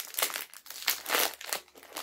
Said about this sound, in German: ich habe die Tüte gerade ein bisschen eingerissen